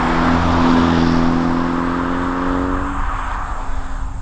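A 2021 Hyundai Elantra N-line with a 7-speed dual-clutch transmission pulls hard in first gear, its engine droning loud and steady, the pitch climbing, then dropping off as the gear changes near the end.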